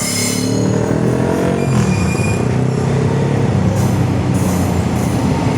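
A train hauled by EMD locomotive 25107 departing Wakaf Baru station, heard as a loud continuous rumble of wheels and engine with faint squeals and rattling throughout, no voices.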